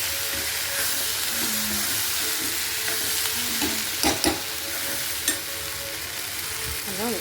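Chutney ingredients being sautéed in a home kitchen pan, a steady sizzle with stirring and a few brief scraping knocks, close and fairly even throughout with no talk.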